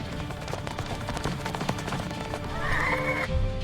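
Horses whinny loudly nearby with hoofbeats and a busy rustle of movement, and a long shrill neigh rises near the end.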